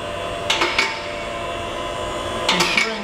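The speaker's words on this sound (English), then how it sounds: "it uses the patented gravity lock that latches every 1 3/4 of an inch" Gravity lock on a Stertil Koni vehicle lift latching as it rises, two pairs of quick metallic clicks a couple of seconds apart over a steady mechanical hum.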